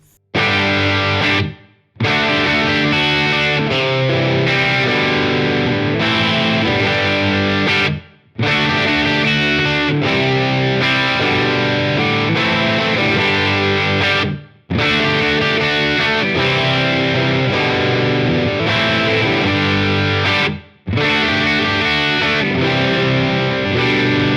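A heavily distorted electric guitar plays a loud, chugging riff through a Friedman BE 100 amp model on a Line 6 Helix, repeating in phrases separated by brief silent breaks.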